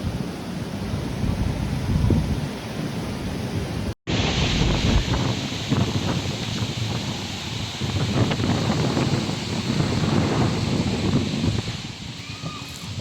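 Strong wind buffets the microphone at a beach campsite in Real, Quezon, a loud continuous roar with surf-like rushing and a brief cut partway through.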